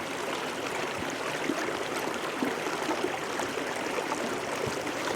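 Water streams steadily from a squeezed Sawyer Mini backpacking filter into a cup, a continuous close trickling splash without speech.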